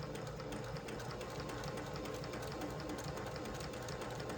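A sewing machine runs slowly and steadily, stitching corner triangles along bias edges of an on-point quilt, a continuous mechanical whir and needle chatter close by throughout, with no talking.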